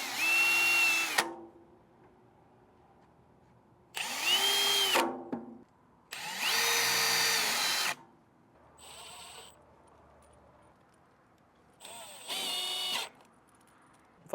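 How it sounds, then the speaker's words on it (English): Power drill driving hardware into Lippert SolidStep RV steps on a 2021 Grand Design Reflection, several loud whirring bursts of one to two seconds that spin up and bog down, separated by quiet pauses and a light clicking. "Now we can get our drill and put the rest of our hardware in."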